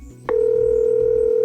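A telephone tone begins with a brief click, then holds as a steady, loud single-pitch hum on a call back, continuing unbroken to the end with no voices.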